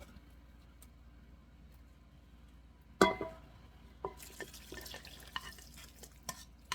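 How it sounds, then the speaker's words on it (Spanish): After a single clunk, chili soaking broth pours into a blender jar holding prunes for a pork loin in pasilla chile sauce, making a soft, continuous splashing rush with a few small knocks. "Vamos a agregarle también el caldo en el cual se remojaron los chiles."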